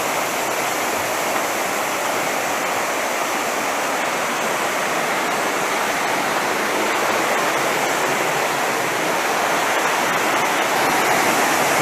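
Arekkal waterfall roars with a steady, dense rush of falling water, loud and continuous from start to finish, with no voices.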